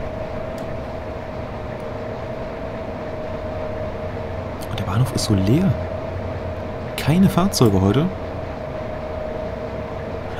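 ÖBB 1189 Krokodil electric locomotive running on the Semmering railway in Train Simulator Classic, giving a steady droning hum with a sustained tone throughout, while someone talks over it in two stretches.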